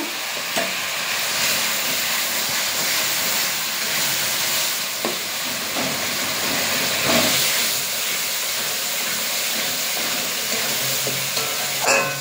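Garlic paste and green chillies frying in a pan for a home-style chicken dish, giving a steady close sizzle and hiss with occasional sharper crackles and stirring clinks, no talk.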